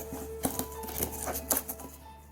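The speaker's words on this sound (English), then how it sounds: "gonna use this blade here to cut this" A utility blade scoring and cutting through material in a workshop build, a series of short close scraping strokes and clicks, irregular and alone without speech.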